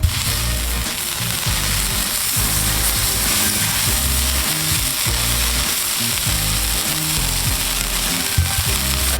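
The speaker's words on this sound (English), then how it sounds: "I'm just gonna take some butter to add some flavor, and we're gonna spread it along the plancha" Butter spread across a hot flat-top plancha gives a loud, steady, close sizzle that runs unbroken throughout with no talking.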